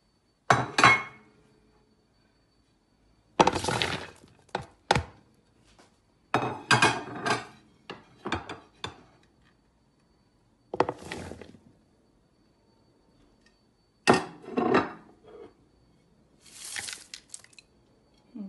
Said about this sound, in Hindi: चलो अब मिक्स करते हैं, सब चीज़ें इसमें डालते हैं